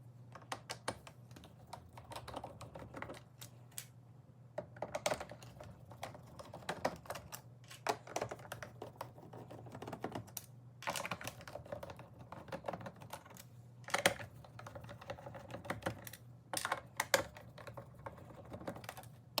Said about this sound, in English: you're gonna have to unscrew all these bigger Phillips head screws